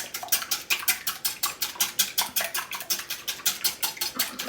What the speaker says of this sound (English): I'm gonna take my whisk and I'm gonna whisk them up.